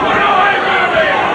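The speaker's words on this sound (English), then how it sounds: "And then Czyz back, but the crowd overreacting." A boxing arena crowd roaring in reaction to a Bobby Czyz punch against Dennis Andries, a loud, sustained cheer from a large audience over the short stretch.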